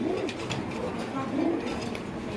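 Female pigeons offered for sale coo softly in short low bursts while someone talks over them.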